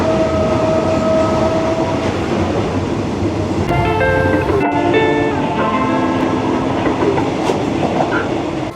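A passenger train on the Bangkok to Hua Hin line rolls steadily along the rails, a loud continuous rumble with wheel clatter and faint squeals rising briefly midway.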